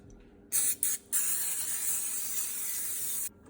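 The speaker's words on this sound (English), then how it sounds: "we're gonna get our pan ready by spraying a little bit of Pam so that it doesn't stick to the pan" Short bursts of cooking spray hissing from a can onto a baking pan, two quick puffs followed by a longer steady spray, close and clear.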